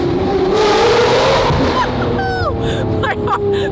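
A supercar engine revving loudly up close, a strong rising roar that climbs in pitch, then eases with tire squeal, while people talk over it.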